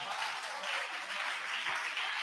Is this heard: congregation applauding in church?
yes